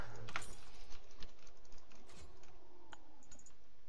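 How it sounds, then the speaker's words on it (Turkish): Several rapid clicks of computer keyboard keys come close up during a League of Legends session, followed by scattered lighter taps and a faint rattle, with no talk over them. "Basıyorum şu anda klavyeden tuşa."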